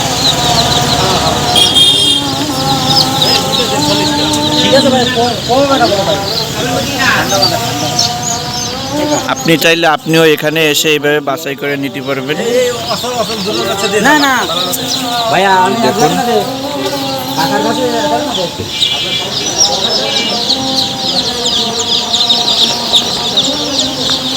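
Fayoumi chickens on a poultry farm cluck and call repeatedly at close range while voices talk over them.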